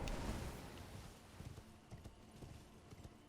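Horse hoofbeats clip-clop at a steady trot in the video game Elden Ring, quiet and fairly close, with a faint low ambient bed beneath and no talking.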